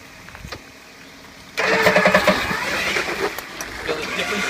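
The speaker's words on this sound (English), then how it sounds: "start winching and driving at the same time" Vehicle engine starts up abruptly and keeps running loud and close with revving while a winch pulls at the same time, a strained steady drone with rising and falling surges.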